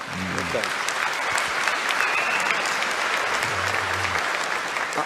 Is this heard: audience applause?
yes